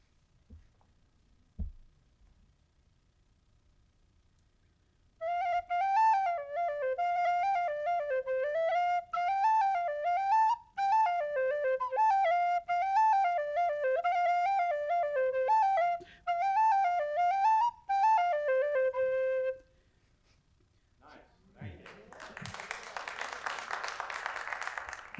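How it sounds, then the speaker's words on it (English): A tin whistle plays a lively, ornamented Irish jig-like tune alone for about fifteen seconds, then stops; a burst of clapping follows. "Can we hear a few licks from the tin whistle?"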